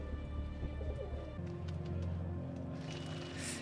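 Pigeons coo softly in a scene from the TV show The Leftovers, low murmuring calls over a quiet outdoor ambience with faint background sound.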